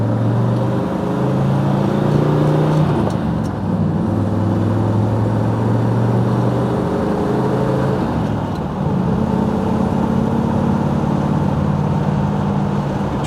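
1969 Chevelle 300 Deluxe SS396 pulling away in first gear, a steady close engine drone with rising revs and a brief dip as it eases off and picks up again.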